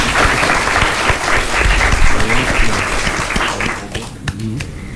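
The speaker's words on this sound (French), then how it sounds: "On peut les applaudir s'il vous plaît." Loud, sustained applause from a crowd, dense clapping that fills the space and thins out slightly toward the end.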